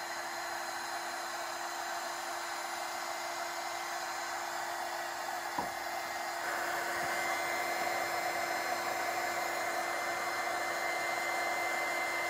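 A hair dryer blows steadily and fairly close, drying paint on a wooden box, with a brief knock partway through and the airflow rising slightly in level for the rest.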